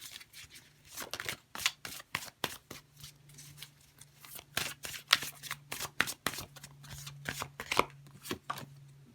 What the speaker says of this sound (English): I feel like the cards don't even want to shuffle